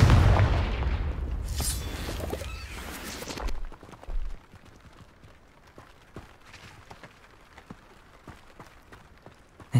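A Confringo blasting spell explodes in Hogwarts Legacy with a loud, broad burst in the opening seconds, followed by a couple of smaller thumps and then quieter scattered clicks and footsteps.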